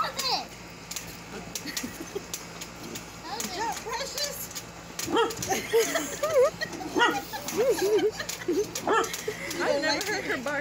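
A dog jumping on a trampoline outdoors barks a few times, mixed in with children's voices and play noise.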